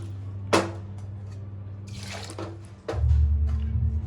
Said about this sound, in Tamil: இப்போ இதில் அப்படியே எல்லாத்தையும் ஊற்றி